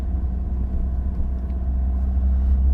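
A learner driver's car engine, mid-driving-lesson, holds a steady low idle-to-throttle rumble, loud and continuous, with no audible surge or revving as the accelerator is pressed.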